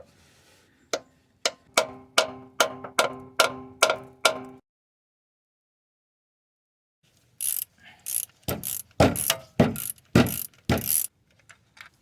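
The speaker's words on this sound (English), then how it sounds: "I'm gonna see if I can insert a 9mm socket because they have been, the head of the bolts have been eaten by the rust." Ratchet clicks turning a rusted 9mm bolt on a 1990s Toyota Corolla, a burst of quick pawl ticks, a silent pause, then louder rapid clattering clicks close to the mic.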